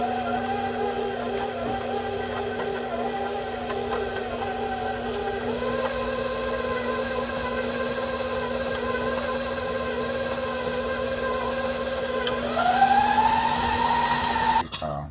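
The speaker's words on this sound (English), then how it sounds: "Cream the butter and sugar about 3 minutes." Electric stand mixer creaming butter with two cups of granulated sugar for tea cake cookies, a steady motor hum and whir running continuously at low speed, with a pitch rise near the end as the speed changes.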